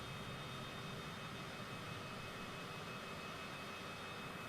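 A distant airplane flies by in a flight simulator game, heard as a faint, even jet-engine drone that holds steady throughout with no voices over it.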